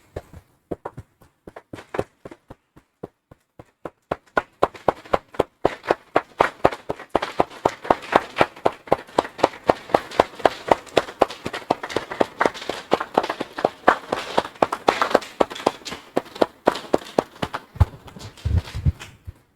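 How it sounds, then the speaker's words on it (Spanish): Church congregation clapping in unison, a sharp rhythmic beat that starts sparse and quickly settles into a steady, even pulse lasting nearly twenty seconds, with no voices over it. "Damos un aplauso, hermanos, así."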